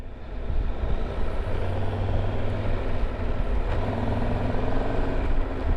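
A 2022 Triumph Tiger 1200 motorcycle engine under way on a ride, a dense continuous drone with steady wind rush and no clear gear changes, loud and close throughout.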